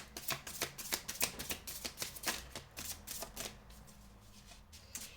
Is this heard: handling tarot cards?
yes